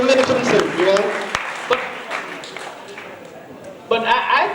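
Scattered audience clapping at a teacher recognition and award ceremony, sharp isolated claps under someone speaking, with a louder burst of clapping near the end.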